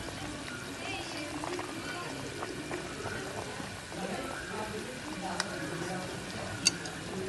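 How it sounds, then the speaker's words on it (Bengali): A pot of water comes to a boil on the stove while cooking a hilsa fish curry, giving a steady, dense bubbling and hiss with a few sharp clicks near the end. "জলটা ফুটে উঠেছে"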